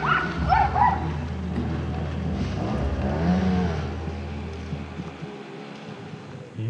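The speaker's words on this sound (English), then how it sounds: "This dog's having a go." A dog barks a few times in a Romanian roadside setting during a van road trip, its yaps somewhat distant over a steady low engine hum that fades out near the end.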